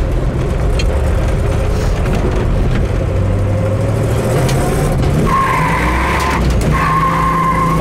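A stock 396 big-block in a 1967 Chevelle SS roars hard under acceleration, loud and continuous, with a rising engine note and a brief tire skid near the end.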